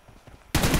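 PUBG Mobile gunfire: faint rapid shots first, then a sudden loud burst of automatic fire right up close.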